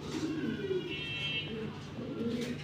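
Silver pigeons in a cage coo in soft, repeated low rolling calls, close by, with faint background noise throughout.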